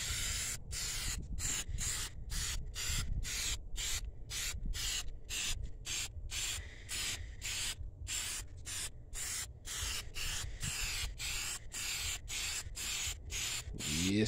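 Spray painting the first coat on a 1993 Honda Accord: a steady close hiss of the spray gun broken by rapid regular cut-outs as the trigger pulses, with no talking.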